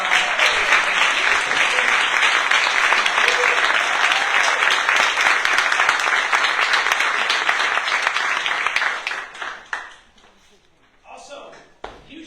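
An indoor audience applauds County Department of Health and Human Services staff at a Humboldt funding announcement, loud dense clapping holding steady for about nine seconds before thinning to scattered claps and fading out.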